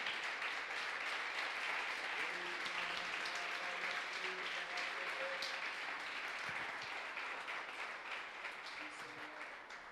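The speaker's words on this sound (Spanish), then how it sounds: "Dar un aplauso bien grande al Señor." A church congregation claps for the Lord in a broad, steady round of applause that fades slightly toward the end, with a few voices faintly audible underneath.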